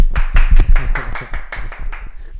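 A few people in a podcast studio clap close to the microphone, about ten loud, distinct claps in a quick uneven rhythm, with brief voices mixed in.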